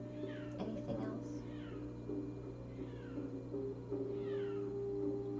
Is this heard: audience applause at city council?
no